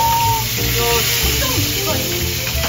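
Food fries in a pan with a loud, steady sizzle. Voices talk over it.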